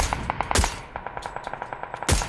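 Gunfire in the video game Battlegrounds (PUBG): a rapid, evenly spaced automatic burst with a few louder, heavier shots mixed in, moderately distant and alone.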